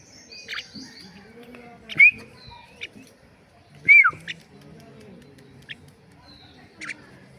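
A tame pet common myna calls close by in short chirps and whistled notes spread across several seconds, with a couple of louder bursts and soft background rustling between them.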